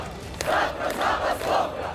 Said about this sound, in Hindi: हजारों लोग एक बार फिर राजधानी मिन्स्क की सड़कों पर उतर आए और मार्च निकाला